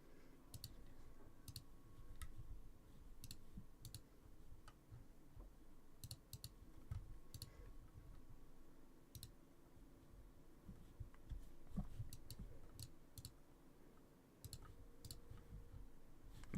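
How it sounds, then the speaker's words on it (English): Keyboard keys and a mouse clicking at a desk during a livestream covering a severe weather outbreak on the Plains. The clicks are close, quiet and irregular, and they run steadily over a low hum with no talking. "Yeah, just keyboard and mouse ASMR now."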